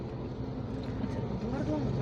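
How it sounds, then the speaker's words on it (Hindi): A tractor-mounted flour grinding mill runs by a road, making a steady, loud, droning engine hum with a continuous mechanical rumble while people talk over it. "आटा चल रहा, आटा पीसने की मशीन ये"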